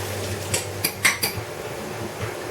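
A fork stirring shrimp in lemon juice in a dish, a few light metallic clinks and taps against the bowl in quick succession, close and clear with no talking.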